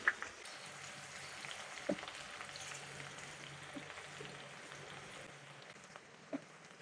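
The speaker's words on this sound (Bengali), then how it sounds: "এখন আমি এর মধ্যে দিয়ে দিব একটু পেঁয়াজ পেঁয়াজ কুচি দিয়ে দিলাম" Chopped onion fries in oil for Bangladeshi chicken polao, a soft, continuous sizzle at low volume with a few light utensil taps scattered through, close by and without talking.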